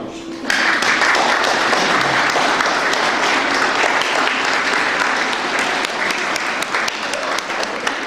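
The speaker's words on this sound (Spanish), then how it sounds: "aquí le damos un aplauso" A hall full of people at a seniors' celebration and fellowship lunch claps together in a loud, dense round of applause that starts abruptly and holds steady for about eight seconds, with scattered sharper claps standing out.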